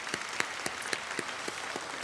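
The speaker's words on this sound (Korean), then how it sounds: "우리 유년부 친구들도 격려의 박수 한번 하겠습니다." A church congregation claps to encourage young children after an early-morning special revival service performance, a steady patter of many hands with sharper individual claps standing out at regular beats, filling a large hall without voices.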